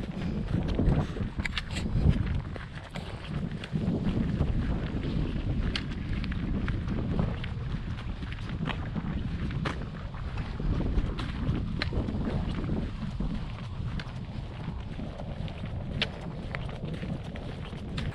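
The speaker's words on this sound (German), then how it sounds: "weil es ist einfach windig" Gusty wind buffets the microphone in a constant low roar, with occasional sharp knocks and rattles breaking through, on the E2 long-distance hiking trail between Pompey and Vic-sur-Seille, Grand Est, France.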